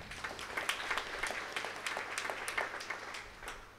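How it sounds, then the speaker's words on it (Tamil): A congregation at a special Catholic Mass in Trichy claps hands together for a few seconds, a steady patter of moderate, somewhat distant clapping with no talk over it. "கைத்தட்டு எல்லாருக்கும்"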